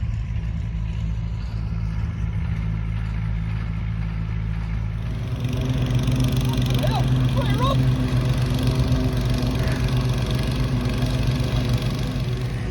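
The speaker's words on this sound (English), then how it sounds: "they're having to bring out the push lawnmower to cut round." A push lawnmower cuts the grass of a football club's pitch during renovation, its engine running as a steady mid-pitched drone that grows louder and rougher partway through, with people talking over it.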